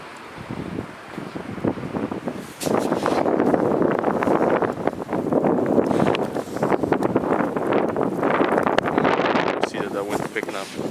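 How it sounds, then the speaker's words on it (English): Strong winter storm wind in New Jersey drives blowing snow, roaring and gusting against the microphone, steady and loud after a quieter start. "it seems like the wind or the snow picked up in the past 2 minutes"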